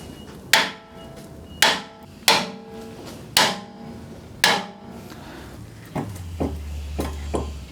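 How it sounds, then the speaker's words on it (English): Hammer blows striking stuck layers on a tiny home being readied for towing: five loud, sharp, evenly spaced impacts, then several softer, duller knocks over a low rumble near the end. "Shall I just hit it really hard with a hammer in different locations and see what happens?"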